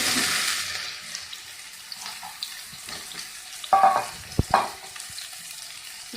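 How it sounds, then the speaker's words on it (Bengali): Pieces of ash gourd drop into hot oil in a pan after dried red chilli has been fried, a soft steady sizzle marked by a few sharp clatters and splashes as they land, with no talking. "এবার এতে দিয়ে দিচ্ছি টুকরো করে কেটে রাখা চাল কুমড়োগুলো।"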